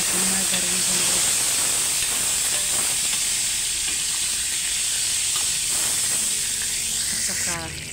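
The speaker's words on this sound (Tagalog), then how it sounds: "Pa-melt lang natin yung ating margarine guys." Margarine melting in plenty of hot oil in a cast iron pan, a loud continuous close sizzle and hiss that holds steady throughout before easing off at the very end, with no talking.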